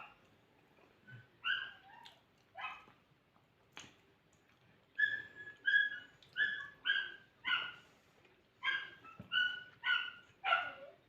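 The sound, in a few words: dog barking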